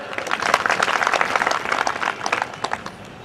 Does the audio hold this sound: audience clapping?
yes